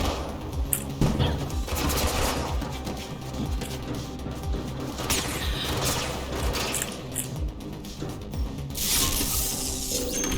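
Sustained gunfire in the video game Mirror's Edge Catalyst, dense rattling bursts and impacts running continuously over a loud layered game soundscape, with no speech heard.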